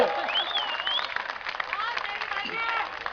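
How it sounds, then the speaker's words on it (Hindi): Applause from a crowd at an election rally in Ahmedabad rolls on steadily under excited shouting and voices, fairly loud and continuous for a few seconds. "ठोको ठोको ताली ठोको।"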